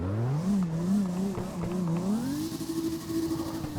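Drifting car on Kami Road, a steady close engine note with fluctuating RPM that dips and swells, then climbs to a higher held pitch, loud and without voices.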